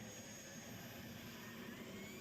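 Steady, loud engine roar with a high whining tone from a tractor-pulling competition tractor, continuous and unbroken throughout, like a heavy machine straining at full power.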